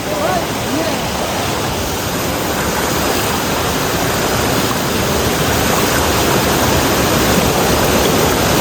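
A waterfall swollen by heavy rain sends rushing water down in a loud, dense, continuous roar that fills the whole stretch without a break.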